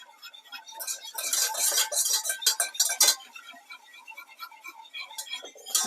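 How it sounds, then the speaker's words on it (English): Metal whisk rattling and scraping against a pot while a ham and cheese slice mixture is whisked, a dense run of quick clinking strokes that pauses briefly near the middle and resumes, close and clear with no talk. "Keep whisking it"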